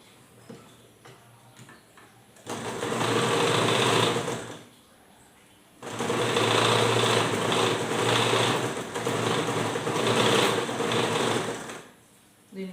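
Sewing machine running in two long bursts while stitching a frock bodice, a steady close whir with a fast ticking rhythm, separated by a brief quieter pause; no talking.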